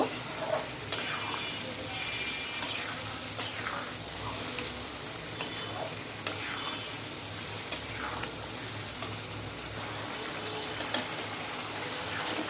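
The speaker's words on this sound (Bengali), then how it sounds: "রসুনটা ভালোভাবে কষিয়ে নেব।" Boiled garlic sautéing in a pan for garlic pickle, a continuous close sizzle and hiss with light periodic scrapes of stirring, no voices.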